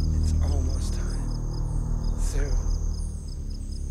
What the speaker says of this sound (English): it's full of crickets and bugs